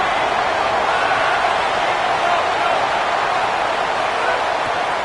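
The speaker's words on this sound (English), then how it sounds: "This dog crowd is off the leash, and they are coming after them, bringing noise on third down" Steady, dense roar of a large college football video game stadium crowd on third down, constant and loud with no breaks, a broad wash of cheering noise.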